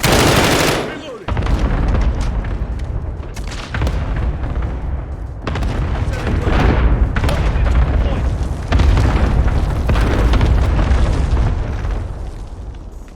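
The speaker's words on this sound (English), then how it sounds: "Enemy cluster strike. Take cover." A cluster strike in a shooter video game sets off a rapid barrage of loud, heavy explosions that rumble and boom continuously for over ten seconds, with faint voices mixed underneath.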